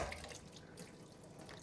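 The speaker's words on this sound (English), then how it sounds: "Pour these noodles out like that," Water pours and splashes steadily as cooked chow mein noodles are drained into a sink, a faint continuous rushing with no speech.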